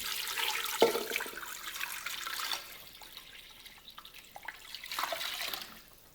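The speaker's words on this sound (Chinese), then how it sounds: "将五花肉放入电饭锅中，加入适量的清水。" Water pours into a rice cooker holding pork belly, a soft splashing trickle that is strongest at the start, includes a brief clink, and fades to gentle quieter sloshing.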